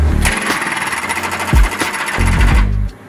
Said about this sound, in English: The Impulse Evolution 1500 hydraulic breaker.